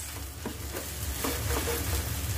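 Fried rice with pork and vegetables being stirred and tossed in a hot pan, a steady sizzle under repeated scraping and clattering strokes of the spatula, close and continuous with no talking.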